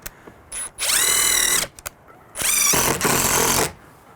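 A power drill drives a screw while a keypad electronic lock set is fitted into a pre-mortised door, with two loud whining bursts, each ramping up and running about a second, separated by short clicks and pauses.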